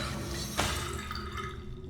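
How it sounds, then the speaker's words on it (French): A faucet in the game Riven drips once with a soft plink over a dense, steady water hiss and ambient game background. "Robinet pratique et élégant."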